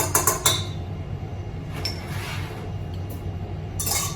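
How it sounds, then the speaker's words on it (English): A spoon clinks a few times against a glass bowl of egg whites while salt and cream of tartar are stirred in, followed by quieter handling with another short clatter at the end. "I'm going to stir with the end of a spoon with that cream of tartar"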